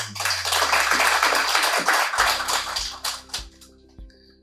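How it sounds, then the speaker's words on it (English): An audience at a money-management class gathering claps for itself in a burst of dense applause, which thins into a few scattered claps before stopping, with no one talking. "you can clap for yourselves"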